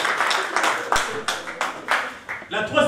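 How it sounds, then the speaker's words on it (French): An audience claps in a few uneven, rhythmic bursts, close and moderately loud, with a voice speaking among the applause. "La RDC, on applaudit."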